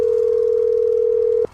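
Steady telephone dial tone, a single continuous pure hum held unbroken and loud, then cutting off abruptly near the end, leaving a faint hiss.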